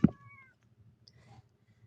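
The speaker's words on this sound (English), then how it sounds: "Meow." Kittens give a short, faint meow right at the start, followed by quiet rustling and soft clicks in an otherwise hushed room.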